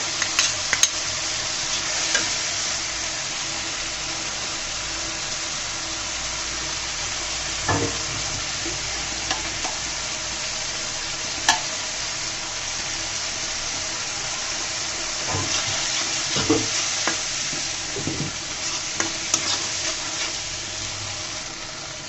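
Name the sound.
frying dried fish (shutki) in oil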